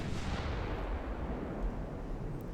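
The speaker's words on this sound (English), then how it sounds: "9-inch wing turrets are now also opening up" Heavy 9-inch wing turrets of a dreadnought firing in the naval game Ultimate Admiral: Dreadnoughts, a dense rolling boom of big guns that fills the whole stretch with low rumble, no voices over it.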